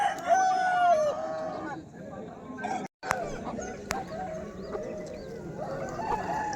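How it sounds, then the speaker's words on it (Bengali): Roosters crow and cluck among other fowl at a village rooster fair, with a long crow near the start and scattered clucks after, set against busy crowd chatter and market bustle. "আর ইতিমধ্যে আমার সামনে যে মোরগটা দেখতে পাচ্ছেন"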